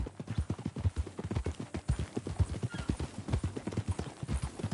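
Steady, rhythmic hoofbeats clip-clop from a horse in a Western-style video game, loud and close and continuing throughout, with a faint neigh and little speech.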